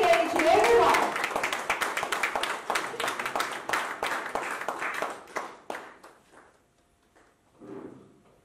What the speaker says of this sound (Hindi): मैं चाहूंगी तालियां बजती रहे